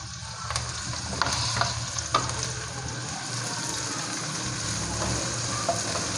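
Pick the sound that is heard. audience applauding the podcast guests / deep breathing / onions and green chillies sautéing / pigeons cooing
onions and green chillies sautéing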